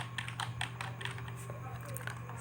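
Typing on a computer keyboard while entering data, a run of quick, light, close key clicks at an irregular pace over a low steady hum.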